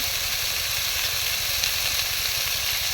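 Garlic paste hitting hot oil gives a loud, continuous sizzle with a dense hiss and fine crackle, close and steady throughout, with no talking.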